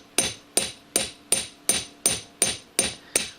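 Hammer blows flattening a small metal piece for a brooch: nine sharp, ringing strikes at a steady pace of roughly two per second, each decaying quickly, loud and near with no talk.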